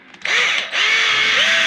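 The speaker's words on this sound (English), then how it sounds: "now he's drilling in the last of the trim screws" A power drill drives trim screws into vinyl trim inside a 2016 Winnebago View motorhome, with two close, loud whirring bursts, the motor note rising as each spins up.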